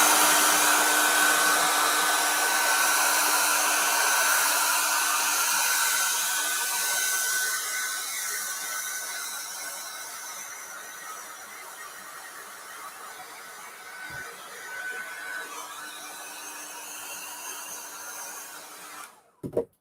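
A hair dryer blows steadily on a wet painting of a Christmas tree, a loud continuous whir that softens slightly over time before cutting off abruptly at the end, with no talking.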